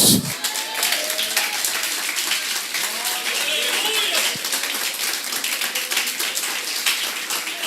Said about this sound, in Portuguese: Irmão, se for para aplaudir, aplauda direito.